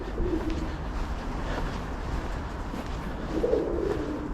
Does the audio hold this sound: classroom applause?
no